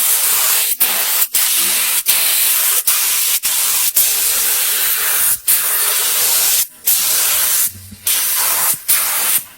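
Steady, loud spray-gun hiss coats a restored 1960 American turret milling machine, sounding in long continuous bursts broken by about a dozen brief pauses.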